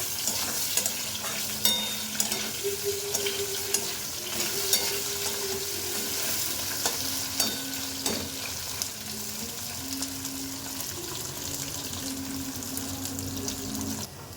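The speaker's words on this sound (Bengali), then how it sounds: "আলুগুলো খুব ভালো ভেজে নেব" Cut potatoes fry in a pan with a continuous soft sizzle, and a spoon stirs them repeatedly, making scattered scraping clicks. The whole scene is fairly quiet and close, with no talking.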